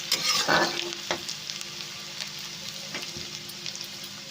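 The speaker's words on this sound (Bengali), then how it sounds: "ওটা হালকা নাড়াচাড়া করে ভেজে নিতে হবে" Garlic sizzles in hot oil while a utensil scrapes and stirs the pan a few times, close up, with no voices.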